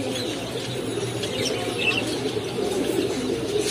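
A pair of pigeons at a pigeon shop coo softly and continuously, with faint chirps and a brief flutter of wings over a low background hum.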